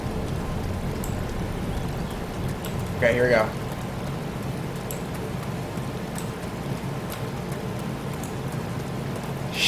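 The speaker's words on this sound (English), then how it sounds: "Why is it always raining on the server?" Steady rain falls in the DayZ game world, a constant hiss under someone talking briefly, with a faint low rumble beneath it.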